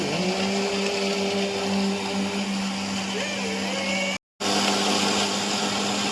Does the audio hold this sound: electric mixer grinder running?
yes